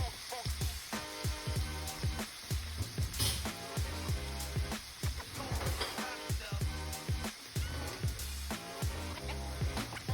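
Carnivore nacho ingredients sizzle steadily as they cook down in a pan, a continuous close frying crackle broken by frequent sharp clinks and scrapes of a utensil against the pan, with no talking.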